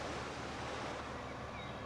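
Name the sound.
waterfall sound effect in Farming Simulator 15 video game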